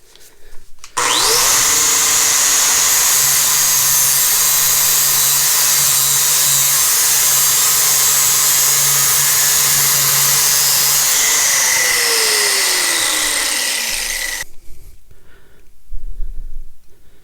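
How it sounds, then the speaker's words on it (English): A cutoff disc on a rotary tool cutting a slot into a knife maker's handle broach: a loud, sustained high-pitched whine that starts abruptly, holds steady for about thirteen seconds, then winds down and stops. "So I'm gonna finish cutting the slot with this."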